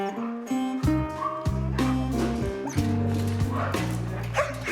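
Siberian huskies yip, bark and whimper in quick, overlapping bursts, nearby and fairly quiet, with a few high whining cries mixed among the short barks.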